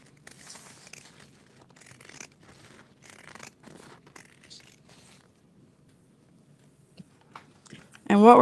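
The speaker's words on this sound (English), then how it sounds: "I'm going to cut the excess down to 1/8 of an inch with pinking shears" Pinking shears trim excess fabric from the lining of a small sewn bag, giving a run of soft, close crunchy snips in irregular bursts, with a quiet voice now and then and a louder handling clatter at the very end.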